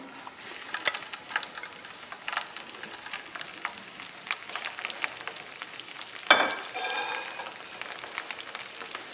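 Salmon or steelhead fillet seasoned with salt and pepper frying skin side down in a pan, a steady close sizzle with scattered pops and crackles, one louder burst of spatter near the end.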